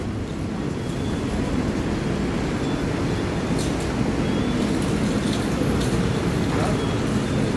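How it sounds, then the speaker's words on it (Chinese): Danhai light rail tram, a Jimmy-painted trainset, running at Hongshulin station in New Taipei, heard as a steady low rumble and rolling hum throughout with faint higher squeals, with no clear speech. "开往红树林的轻轨捷运列车几米彩绘"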